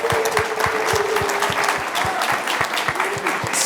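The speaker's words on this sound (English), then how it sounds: "Round of applause." Audience applause fills a conference hall at an event on HBCUs, HSIs and TCUs: dense, steady clapping from a large crowd with a few soft thuds, lasting throughout at an even, fairly loud level.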